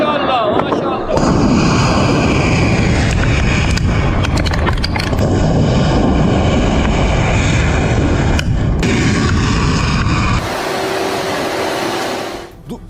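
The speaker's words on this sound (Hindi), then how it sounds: "खमनेई की तस्वीर लगाकर मिसाइल दागी और देखिए मिसाइल जाकर गिरी है बहरीन में" An Iranian missile being launched: a loud, close, continuous roaring blast that rumbles for about ten seconds, then shifts to a thinner hiss before fading.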